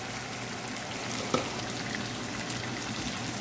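Chicken roasting in ghee sizzles and fries steadily in a pan over medium heat, a constant close crackle with one brief clink, and no voices.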